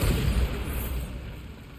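A Bombarda blasting spell cast in Hogwarts Legacy, a deep booming explosion that hits hard at first and then rumbles and fades over under two seconds.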